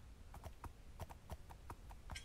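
A horse's hooves clip-clopping in the Minecraft video game, about a dozen evenly spaced hollow knocks in a steady walking rhythm, quiet and close, with no talk.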